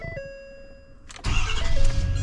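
A pickup truck's engine cranks and catches after a steady door-open warning chime, then settles into a loud, rough idle close by while the chime keeps sounding.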